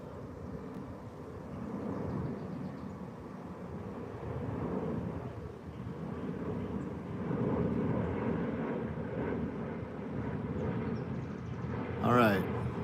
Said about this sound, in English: Another airplane coming.